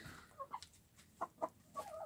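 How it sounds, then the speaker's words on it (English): Laying hens cluck softly in a few short, separate bursts, fairly faint and close by, near large meat birds. "The birds learn pretty quick not to mess with these big meat birds."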